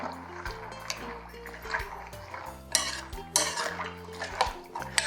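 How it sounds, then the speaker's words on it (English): Black bean ingredients being stirred together in a crockpot: a utensil scrapes and clinks against the pot in uneven strokes, with wet sloshing, close up and without talk. "So next we're going to just stir everything all together."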